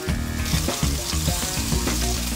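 Scallops sear in a hot pan with a touch of oil, salt and pepper, giving a loud, steady sizzle and crackle up close with no talking.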